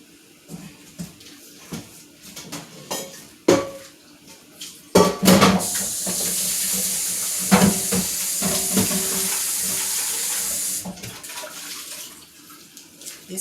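Cooking pots for chitterlings are handled and switched, with sharp metallic knocks and clanks, then a long rushing stretch of running water like a tap filling a pot.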